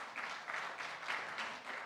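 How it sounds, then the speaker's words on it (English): An audience at a climate justice summit gives a short round of applause, a soft, fairly distant patter of many hands lasting under two seconds. "Give yourselves a round of applause for coming back."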